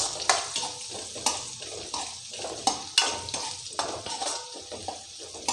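A spoon or spatula stirs bitter gourd (kakarakaya) curry with turmeric in a pan, producing a steady rhythm of scraping strokes over a soft, constant sizzle.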